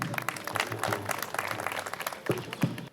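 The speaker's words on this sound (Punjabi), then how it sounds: "ਤਾੜੀ ਲਗਾ ਦਿਓ ਜੀ" An audience at a Lohri festival program claps together, a loose patter of hands with some louder bursts near the end, heard at moderate distance with faint voices mixed in.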